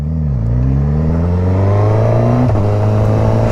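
A 2021 Suzuki GSX-S 1000 motorcycle accelerates hard and close, its engine note climbing steadily in pitch through a gear, with a brief dip at a shift before rising again, loud and continuous.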